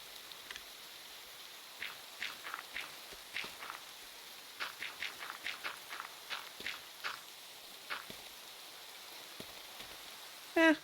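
Rain falling in the video game Minecraft on a multiplayer server, a steady faint wash of rainfall with a series of short soft patters or steps recurring across the middle, close and quiet, with no talking.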